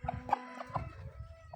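Near and fairly loud, a rooster sold as a healthy fighting bird lets out a few abrupt clucks and a brief throaty call against soft background noise.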